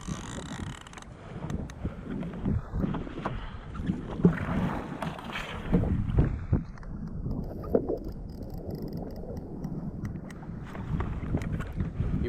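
A kayak is paddled across water while fishing, with irregular splashing strokes, soft creaks from the hull and gear, and light wind buffeting the microphone, all without talk.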